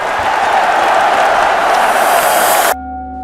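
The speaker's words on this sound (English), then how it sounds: "And in the roar of the crowd" A roaring crowd in a headphone commercial, a dense, loud wash of cheering noise that holds steady and then cuts off abruptly into a soft, sustained tonal hum.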